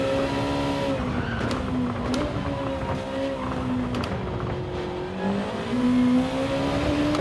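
A race car runs a lap in a racing video game, its engine droning steadily with rising and falling revs through gear changes and occasional tire squeal, loud and continuous with no talk.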